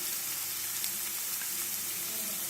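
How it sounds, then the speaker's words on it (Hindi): Cumin powder frying in oil in a pan over a medium gas flame for mushroom masala, a steady close sizzle that holds evenly throughout with no talking. "इसके बाद हम 1 चम्मच जीरा पाउडर डालेंगे"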